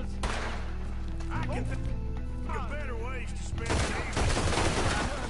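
Gunfire in Red Dead Redemption 2, bursts of shots under a busy game soundtrack with music tones, and a heavier cluster of blasts near the end.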